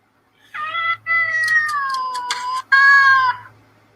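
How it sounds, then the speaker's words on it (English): A phone app plays synthetic cat meows, about four drawn-out mews in a row with short gaps between them. They are loud and close, with no voice underneath. "There is no kitty. It's an app on my phone."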